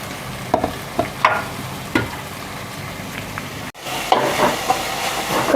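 Onions frying in hot coconut oil in a pan, a close crackling sizzle with scattered scrapes of stirring and a brief break before the frying noise rises again louder.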